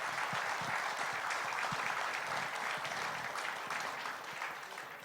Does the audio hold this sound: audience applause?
yes